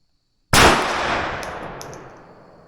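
A single muzzleloader rifle shot at an outdoor range: one sharp, loud blast after a brief silence, followed by a long decaying roll of echo with faint ringing tones.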